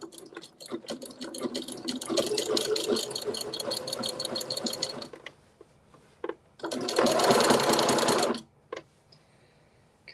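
A sewing machine runs in long continuous bursts while stitching a quilt, a steady rapid whir for several seconds, then a pause and a second shorter loud burst, with small clicks in between.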